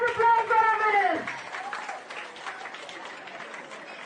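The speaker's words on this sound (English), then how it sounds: "A huge round of applause for our winners." Audience applause for award-winning student performers at a school outreach event, a broad wash of clapping that swells loudly at first and then settles to a steadier, softer patter, with a voice speaking over the opening.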